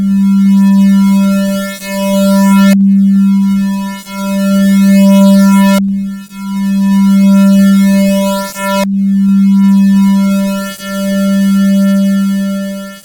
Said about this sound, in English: So there you hear the sine to square rolling.